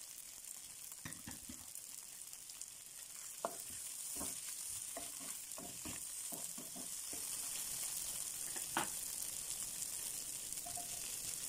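Tofu skins stir-fried with garlic and ginger in hot oil in a home kitchen wok, a steady sizzle throughout with repeated scraping stirs of the utensil, close and moderately loud, with no talking.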